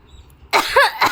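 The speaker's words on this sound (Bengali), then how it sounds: "একটু কাশি দিয়ে দো, কাশি দিয়ে দো, কাশি দিয়ে দেখায় দাও তো বাবা" A young man coughs on request, starting after a brief quiet pause with two or three loud, close, harsh coughs in quick succession.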